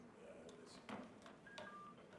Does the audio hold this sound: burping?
no